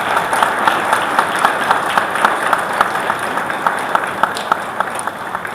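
Sustained applause from a large audience at the World Health Expo 2025 opening, welcoming Ghana's Minister of Health to the stage; steady dense clapping with sharper individual claps standing out throughout, no speech.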